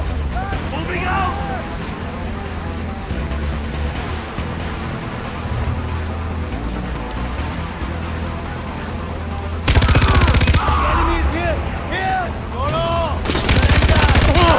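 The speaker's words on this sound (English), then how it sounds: "Someone's shooting." Sustained bursts of automatic gunfire in a Far Cry 4 firefight in the Himalayas, loud and dense throughout, swelling to heavier volleys near the end, with shouted voices mixed in.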